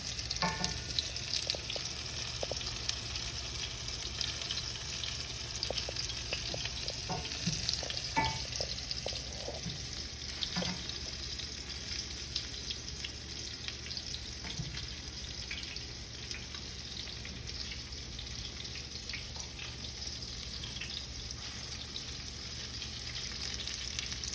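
Homemade fish fillets frying in oil give a steady, close sizzle and crackle that runs unbroken, with occasional faint clinks over it and no talk.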